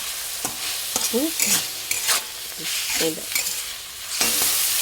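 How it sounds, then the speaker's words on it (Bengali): Chopped vegetables, carrots among them, sizzle steadily in a hot pan as a spatula stirs and scrapes through them in irregular strokes for a home-style stir-fry; frying is close and continuous, with no talking. "সবগুলো এবার একসাথে ভালো করে ভেজে নেব"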